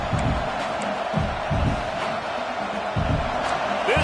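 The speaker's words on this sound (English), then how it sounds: "This crowd bringing the energy and noise early." Football stadium crowd at a Clemson game roars in a steady, loud wash, with rhythmic low thumps and rising swells of noise throughout.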